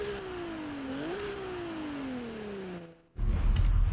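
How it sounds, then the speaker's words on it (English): A car engine in Forza Horizon 5 holds a steady drone with a slight pitch bump, then slowly falls in pitch as it eases off. After a brief dropout, a louder roaring rush follows, with no talk. "Car sounds amazing."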